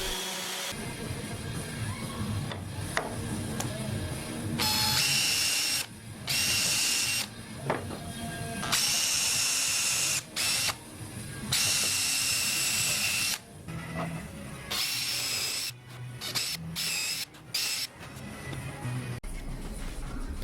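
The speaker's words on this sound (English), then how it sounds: "then I could spend a day, most of the day, sanding all of these posts" A power sander working over pine timber posts for a cube bed, its loud whirring running in long bursts and broken by short stops and restarts.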